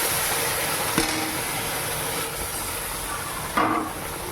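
Tomatoes hit hot oil with browning onions in a cooking pan in a village kitchen, a steady loud hissing sizzle with a sharper burst near the end.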